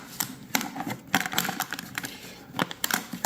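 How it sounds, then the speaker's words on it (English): A Corona 3 portable typewriter's case being closed and locked, a string of sharp metallic clicks and latch snaps at irregular intervals, close and fairly quiet with nothing else heard. "locking the case, and everything is just fine"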